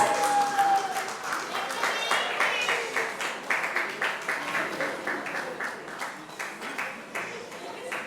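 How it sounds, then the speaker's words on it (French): Audience applause fills an awards ceremony hall, steady dense clapping throughout with a faint tone and some voices mixed in. "C'est le bébé de famille Libotte, on applaudit bien fort."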